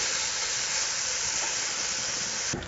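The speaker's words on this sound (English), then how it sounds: "you see our bacon's getting good and crisp" Bacon frying crisp in a pan gives a steady, dense hiss and sizzle that runs unbroken and fairly loud close up, with a brief soft knock near the end.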